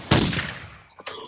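A single gunshot fired in the horror video game Rake, a sharp loud blast with a short decaying tail, followed a moment later by a second, fainter burst of sound.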